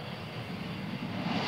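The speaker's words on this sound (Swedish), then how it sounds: "Nu ska planet strax lyfta." A passenger airplane's engines roar steadily just before takeoff, a loud, constant broadband rumble and whine that swells slightly toward the end.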